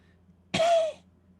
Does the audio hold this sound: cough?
yes